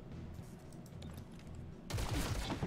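A burst of gunfire in the video game XCOM: Chimera Squad erupts loud and dense near the end, after a stretch of low game ambience.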